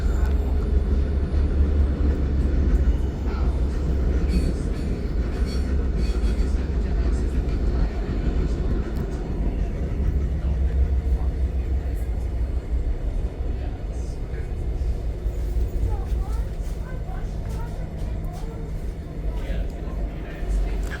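Steady low rumble of an Ottawa O-Train light rail train on the Trillium Line in motion, heard from inside a car, with continuous rolling noise and faint squeals.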